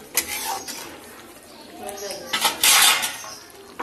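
A lid clatters onto a metal pot of petha (pumpkin) curry, a close, bright metallic clink and rattle with softer scraping around it.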